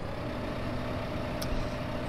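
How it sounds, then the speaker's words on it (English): A Lamborghini tractor engine in the Farming Simulator 15 video game runs at a steady, loud, low drone, with one brief hiss partway through. "we have one of them fancy Italian racing tractors, a Lamborghini"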